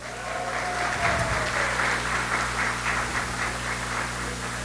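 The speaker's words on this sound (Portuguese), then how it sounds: "vamos dar uma salva de palmas aqui para Teliseu" A church congregation applauds steadily for a member's birthday, a dense wash of clapping at even loudness throughout, with a faint whistle-like tone early on.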